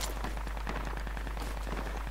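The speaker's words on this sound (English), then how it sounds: "And I got accurate sniper fire." Rapid sniper and rifle gunfire in the Project Reality video game, a steady run of sharp cracks over a constant low rumble, moderately loud with no talk.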